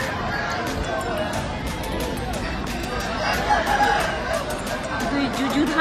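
Chickens and roosters at a rural chicken market in a forest village, scattered clucking and calls amid a busy crowd murmur, close and continuous.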